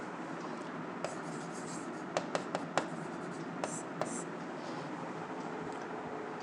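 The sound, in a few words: writing down given data by hand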